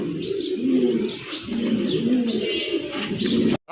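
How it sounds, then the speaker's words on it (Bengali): Black mundi pigeons coo close by in a loft, with repeated low, throaty rolling coos that overlap one another, along with faint chirps in the background. "মুন্ডি কবুতর দেখেন কালা কুচকুচা"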